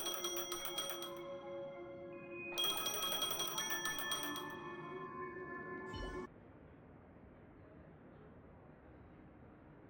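A phone rings in the game Honkai Star Rail: a steady electronic ringtone with bright pulsing tones, repeating for about six seconds before cutting off, leaving a quiet background hum.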